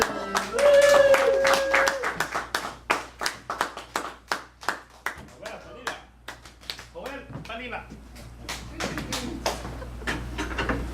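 A small but enthusiastic comedy-club audience claps and applauds as a comedian is welcomed onto the stage, sharp rapid claps thinning out gradually, with a host's voice over the start.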